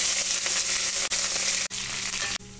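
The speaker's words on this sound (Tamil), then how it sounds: "அடுத்து நம்ம கட் பண்ணி வச்சுருக்கிற வெங்காயத்தை இதில் ஆட் பண்ணிக்கலாம்" Chopped onions hit hot oil with curry leaves for a black lentil curry, giving a loud, steady broadband sizzle with brief dips as the onions are tipped in and stirred.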